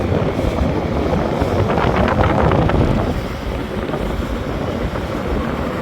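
Passenger launch boats passing on a river at night, heard from aboard a launch as a loud, continuous engine rumble and rushing water, heavy wind buffeting the microphone, no voices.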